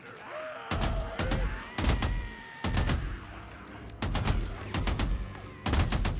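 Weapon gunfire in the video game Days Gone: about half a dozen loud bursts of rapid shots, each a tight cluster of sharp cracks, spaced roughly a second apart.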